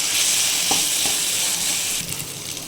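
Ginger garlic paste sizzles in hot oil in a pan while being stirred for an egg macaroni dish, a steady bright hiss broken by a few soft scraping stirs, close and with no voices.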